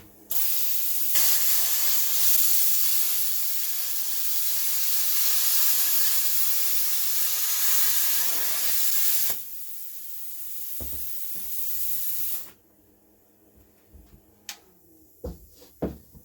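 A Cut 50 plasma cutter hisses steadily and loudly on 30 amps over a droning compressor, then cuts off abruptly, leaving a few clanks and knocks.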